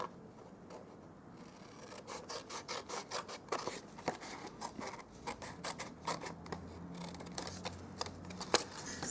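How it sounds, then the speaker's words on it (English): Scissors snip repeatedly through a flap of scored card stock while building a folded café box, giving a steady run of crisp, close cuts with brief pauses and no talking. "with these flaps, we're going to cut off completely this one here. So right across."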